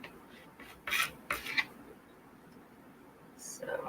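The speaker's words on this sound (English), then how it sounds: "So I'm actually cutting this lengthwise in quarters first, and then I'll start slicing." A knife cuts a small zucchini lengthwise into quarters on a board, giving two short, close, crisp chopping bursts, then another at the end, with quiet pauses between.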